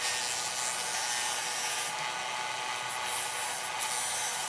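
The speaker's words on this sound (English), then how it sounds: "Okay, sandpaper again." Sandpaper scrubs a small Tamiya Mini 4WD counter gear in a steady, close, continuous gritty rasp with slight swells, and no talking.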